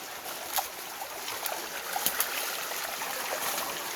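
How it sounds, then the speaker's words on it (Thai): A natural stream flows in open farmland, a steady broadband wash of running water with faint trickling detail, moderately close and continuous, with no talk over it. "นี่มันมีน้ำธรรมชาติเด้อทุกคนเด้อ"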